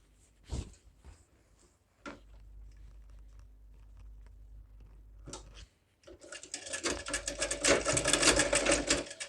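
Sewing machine stitching a reverse stitch on a blouse, a few isolated clicks and knocks followed by a loud, fast rattling run of stitching near the end, close and without talk.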